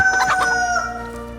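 A rooster crows in the survival video game DayZ, one clear, loud, close call with harmonic, stepped notes that trail off over about a second.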